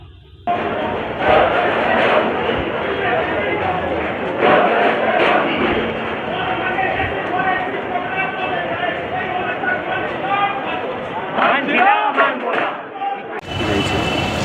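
A dense crowd of protesting sacked job holders shouts slogans of 'thief' in unison, loud and sustained with rising waves of voices throughout the scene.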